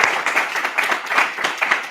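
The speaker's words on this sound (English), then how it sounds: "Please, class, join me in a big round of applause." A UC Berkeley course class breaks into a big round of applause, dense rapid clapping from many hands filling the room for a couple of seconds.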